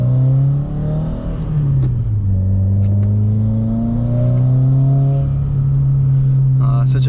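Modified Subaru WRX with a new pro tune accelerating on a road drive, its engine note climbing steadily and loud, dipping briefly then rising again, heard from inside the car throughout with faint interior clicks.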